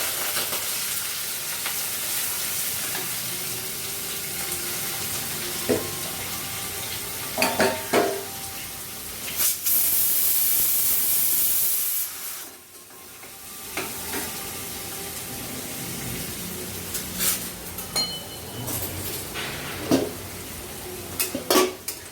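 Onions fry in a pan with a steady sizzle, broken by repeated stirring scrapes and clinks of a spoon against the pan; the hiss briefly surges and then dips before the stirring resumes.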